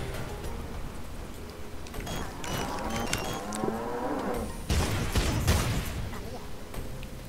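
Cow weapon in a Worms video game lets out loud drawn-out moos over a busy game soundscape, followed by sharp bangs and clatter, with people talking over it.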